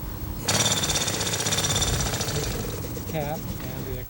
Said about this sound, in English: it takes about 35 holes to be drilled at the base of the stacks